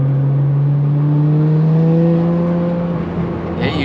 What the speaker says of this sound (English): you hear the turbo so much more with the valve open